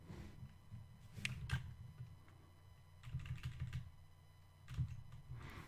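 Typing on a computer keyboard during an Arch Linux install, with bursts of clicking keystrokes in short clusters separated by quieter pauses, fairly faint and close, with a low steady hum beneath.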